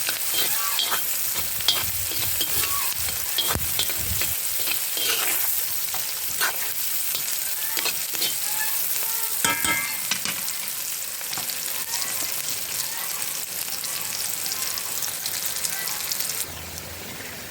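Chopped onion sweats gently in oil in a frying pan for borscht, giving a continuous soft sizzle and crackle broken by scraping stirs, close and fairly loud.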